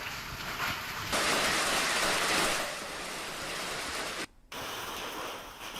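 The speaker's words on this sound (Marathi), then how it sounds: "कराड दक्षिण मध्ये जोरदार पावसाने झोडपून काढले" Heavy unseasonal rain pours over farmland in Karad South, Maharashtra, a dense steady hiss that swells louder partway through, broken by one brief dropout, with no voices.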